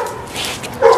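A one-year-old Pit Bull/Lab mix puppy gives a single short, close yip or bark, ending in a brief louder burst.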